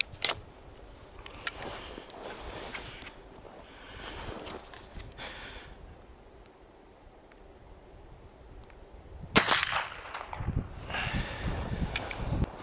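One sharp, loud shot from an IZhK rifle firing a homemade .32 caliber bullet rings out outdoors, standing alone against a quiet background of faint rustling and handling noise.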